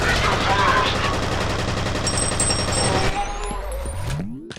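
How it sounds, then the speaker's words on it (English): An MP5 submachine gun firing in the shooter game F.E.A.R., rapid continuous automatic bursts loud and close for about three seconds, then stopping, leaving impacts and a fading tail. "The submachine gun. I believe it's a MP5 or something like that."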